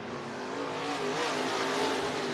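IMCA Sport Mod race cars in a heat race at Cottage Grove Speedway, Oregon, roar as a continuous, dense engine drone from a short distance, steady and loud with no clear breaks.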